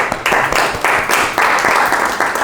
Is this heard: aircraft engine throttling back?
no